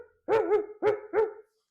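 A dog gives three quick, close barks in rapid succession, each bark short and tonal, followed by silence.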